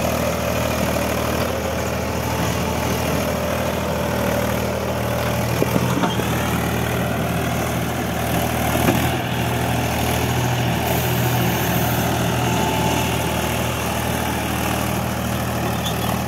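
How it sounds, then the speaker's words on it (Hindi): A small tractor engine pulling through soil drones steadily and loudly throughout, a continuous low rumbling chug with no pauses. "छोटा ट्रैक्टर होने के बावजूद भी काफ़ी अच्छा दम लगा रहा है"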